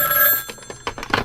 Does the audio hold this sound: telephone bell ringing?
yes